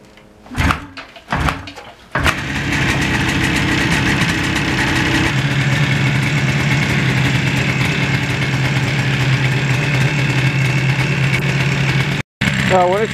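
A 1977 Yamaha RD400 motorcycle engine idles steadily with the choke on in cold weather, a continuous close two-stroke drone running about ten seconds after a few knocks at the start, with a brief cutout near the end.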